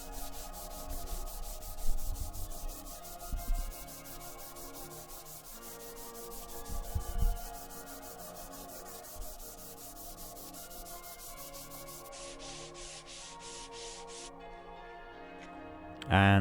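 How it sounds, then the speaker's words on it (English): Hand sanding a pallet wood butcher's block table top with 120 grit sandpaper gives soft, rhythmic rubbing strokes, faint and intermittent, under a steady background music bed. "And I went over it again by hand with 120 grit."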